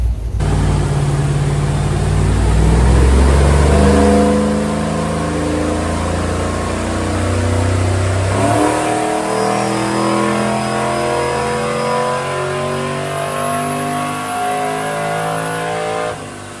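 A Ford OBS truck engine making short full-throttle pulls in second gear on a dyno: a loud, continuous roar that climbs in pitch, drops back and climbs again, with no voices.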